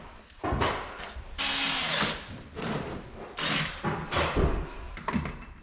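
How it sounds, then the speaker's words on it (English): A power drill whines in several bursts as it bores holes in a metal L bracket for a solar panel, each run lasting under a second or so, close and fairly loud. "we simply drill 4 holes and then bolt the L brackets to the solar panel"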